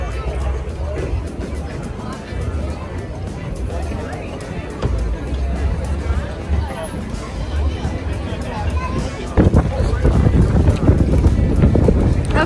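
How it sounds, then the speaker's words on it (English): Strong wind buffets the microphone at the Annapolis sailboat show, a steady low rumble that grows louder in the final seconds, while people talk and a crowd murmurs in the background. "the wind is ridiculous and he doesn't like getting wet"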